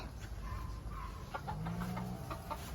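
Hens clucking in short repeated bursts at a farmyard, with a low rumbling background and a few sharper calls mixed in.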